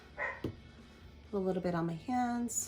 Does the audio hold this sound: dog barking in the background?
yes